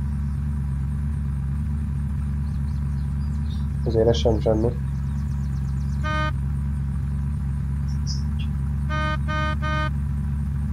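A car engine in Unturned drones steadily at low pitch the whole time. Someone speaks briefly over it, and a few short electronic beeping tones come later.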